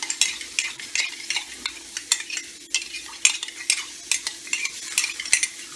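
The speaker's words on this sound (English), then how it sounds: "Give that a stir." Spoon stirring a cornstarch slurry into a simmering maple red wine demi-glace for bison tomahawk, with repeated soft scraping strokes over a steady light sizzle, close and fairly quiet.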